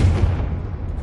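Bombarda and Confringo spells in the Hogwarts Legacy video game go off as a single close, heavy blast. A deep rumbling boom fades over about a second, with no talk.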